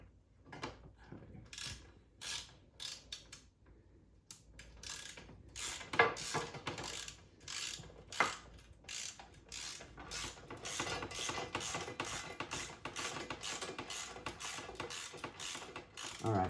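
Bolts are tightened on a crash cage being fitted to a ZX6R motorcycle, a series of close ratcheting clicks and metallic rattles in short bursts with pauses between.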